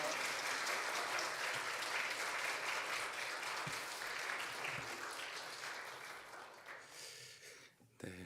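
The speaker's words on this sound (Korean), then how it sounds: "우리 목사님 나오실 때 큰 박수로 격려하며 환영하는 그런 시간을 가졌으면 좋겠습니다." Korean church congregation gives sustained applause welcoming a visiting pastor at a New Year Wednesday service, steady dense clapping through most of the stretch that thins and fades toward the end.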